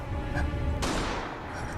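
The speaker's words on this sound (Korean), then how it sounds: "그리고 한 발의 총성을 듣고" A single sharp gunshot in a horror film bursts out partway through, cutting across a low rumbling background.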